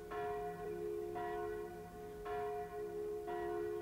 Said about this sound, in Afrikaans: Luister, ons kan die klokke hoor.